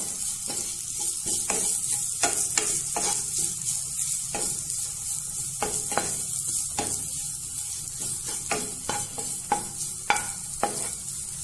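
Potatoes frying with ginger in a pan give a continuous close sizzle, broken by repeated scraping strokes of a stirring spoon at an irregular pace.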